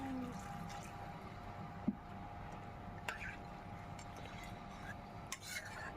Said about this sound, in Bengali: এবার আমি এর মধ্যে পরিমাণ মতো জল দিয়ে দেব